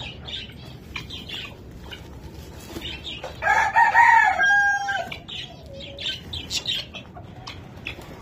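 Chickens on a small farm, both grown hens and young ones, with guinea fowl nearby: a loud rooster-like crow and clucking rise mid-clip over steady chirping and scattered bird calls, fairly close, with no talk.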